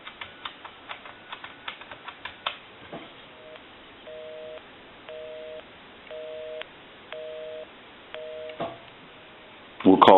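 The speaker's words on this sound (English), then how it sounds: "We'll call my number and it'll be busy." A touchtone telephone line returns a busy signal, a series of evenly spaced on-off beeps heard after a quick run of button presses and clicks, loud and close, with no voices.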